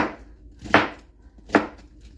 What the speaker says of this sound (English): I'm just going to cut these down really small, fairly small pieces